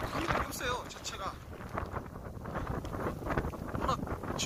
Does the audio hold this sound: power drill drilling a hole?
no